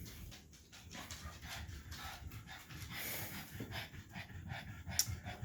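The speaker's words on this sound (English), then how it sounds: "If you hear snorting, it's because I have fat pugs and they snort." Overweight pugs snort and breathe heavily nearby, a faint, continuous rough snuffling with no speech over it.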